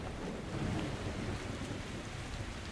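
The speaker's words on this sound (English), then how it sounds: "I'm not a fan of this rain." Steady heavy rain hisses in a Metro Exodus game scene, with low rolling thunder rumbling beneath the constant downpour.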